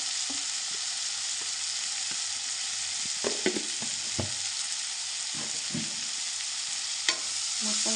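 Tomato and chilli powder fry in a pan while being stirred, a constant bright sizzle broken by scraping stir strokes and a few sharp knocks of the spoon, close and clear with no talking.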